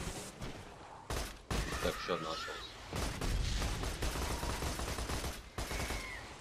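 Gunfire bursts from a vehicle in Borderlands 2, loud rapid volleys that start and stop abruptly over several seconds, with a player talking between shots.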